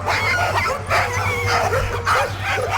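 Sled dogs at a dryland dog derby barking, yipping and whining in an excited chorus, repeated loud calls close by over a low steady rumble.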